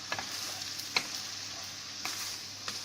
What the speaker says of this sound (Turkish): hafif şöyle karıştıracağım